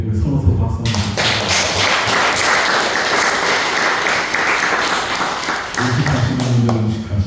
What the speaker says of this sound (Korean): 우리 서로 박수 한번 주세요.